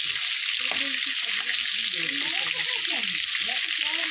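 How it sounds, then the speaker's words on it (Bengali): Crabs fry in hot oil in a pan, giving a loud, steady, close sizzle throughout while a voice talks quietly underneath. "আগে কাঁকড়াগুলো ভেজে নিয়ে একটু ফাটিয়ে দিই"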